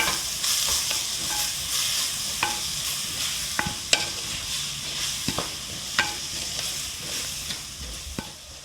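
Onions with ginger, garlic and salt sautéing in a clay pot, a steady sizzle with repeated sharp scrapes and clicks of a spoon stirring throughout, close and fairly even.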